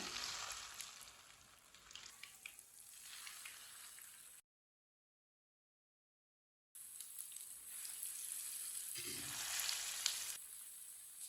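Raw potato chapli kebabs frying in oil in a pan, giving a steady close sizzle and crackle that cuts out for a couple of seconds before resuming just as strongly.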